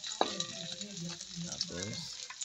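Ginger being stirred and sautéed in a pan for ginisang patola with oregano: a soft, continuous sizzle with light scraping stir strokes, close and fairly quiet, and a faint voice briefly audible underneath.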